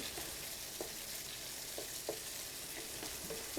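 Frozen tomato frying in a pan for egg curry, a faint, even sizzling hiss with a few soft stirring taps, quiet and steady throughout, no voices.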